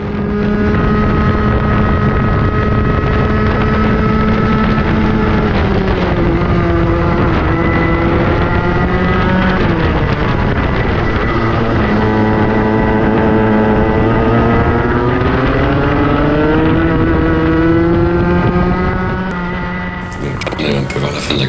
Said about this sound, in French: là on va peut-être entendre le kart qui a toujours cette tendance un peu à plafonner